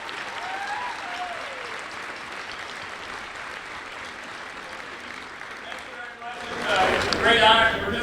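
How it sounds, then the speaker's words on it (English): An audience at a school alumni night honoring a 1965 graduating class applauds Senator Randy Gardner, sustained clapping that swells louder toward the end, with crowd voices mixed in. "So ladies and gentlemen, a big round of applause for Senator Randy Gardner."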